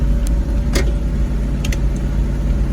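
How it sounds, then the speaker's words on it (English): A 1971 Challenger, not driven in 20 years, runs its engine with a steady loud rumble heard from inside the car, with a few faint clicks and rattles over it. "So this car hasn't been driven, dude, in 20 years."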